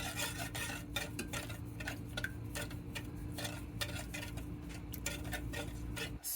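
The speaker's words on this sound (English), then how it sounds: "we're just going to constantly stir this mixture until all of the sugar is dissolved" A spoon stirs a sugar mixture in a pot for a vegan lemon pudding, making a steady run of quick scraping ticks and light rubbing strokes over a low continuous hum.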